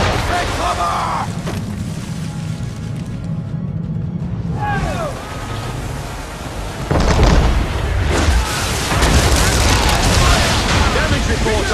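Ship cannons fire in a naval battle in the video game Assassin's Creed 3, with loud booming blasts and rumbling broadsides under shouted crew voices and game music.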